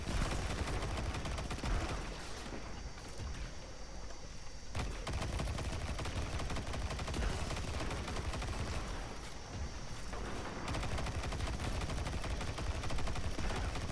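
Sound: auto rifle gunfire in video game Destiny 2

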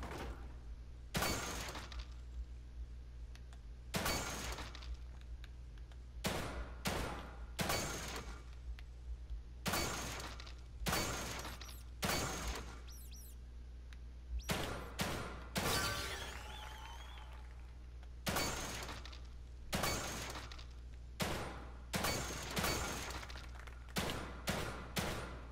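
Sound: gunshots in shooting test, The Evil Within 2 video game

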